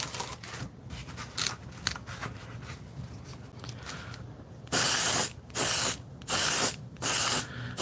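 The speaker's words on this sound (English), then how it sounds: "I painted metals, wood, all kinds of stuff, sandblasting, but never used an airbrush." Airbrush spraying paint onto leather: soft clicks and handling noise first, then four loud, steady bursts of hissing spray, each about half a second to a second long with short gaps.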